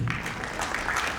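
Applause from an audience at a Sainik School annual function welcoming cadets onto the stage for a play, steady clapping throughout the short moment.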